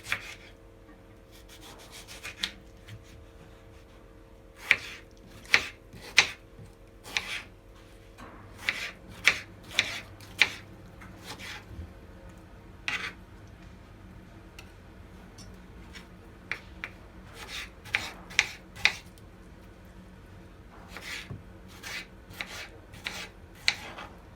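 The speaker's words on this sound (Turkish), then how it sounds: "Domatesimizi de küp küp doğruyoruz." Irregular knife taps on a cutting board as tomatoes are diced into cubes, quick runs of chops separated by pauses and soft scraping, close by and fairly quiet.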